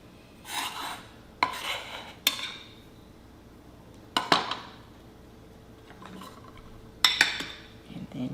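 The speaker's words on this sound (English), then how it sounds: "And then just gently stir that around. Start to get everything all mixed in." Spoon scraping and clinking against a bowl as salmon flakes are stirred into a mixture, a few sharp clinks with softer scraping between them, close and fairly quiet, no talking.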